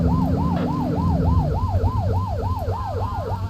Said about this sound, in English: Get on their tail and blip the siren.